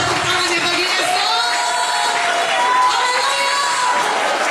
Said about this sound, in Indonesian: Gimana tepuk tangannya bagi Yesus?